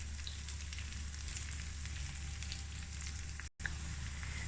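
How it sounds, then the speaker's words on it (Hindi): Okra (bhindi) fries in a pan for masala bhindi, a quiet, steady crackling sizzle over a low hum with a brief cut near the end. "3 से 4 मिनट हो गए हैं भिंडियों को फ्राई करते हुए"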